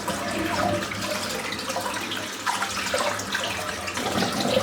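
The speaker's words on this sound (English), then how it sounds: "I'm going to empty the sink out because it's full of hair." Water gurgles and rushes steadily as a sink full of shaved head hair drains, a close, continuous wet churn with brief swells and no talking.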